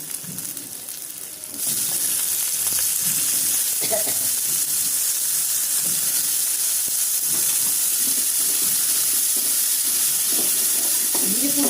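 Tomatoes frying in a pan with ginger garlic paste, a loud, dense sizzle and hiss that swells sharply after a quieter start, with scraping stirs throughout, no voices.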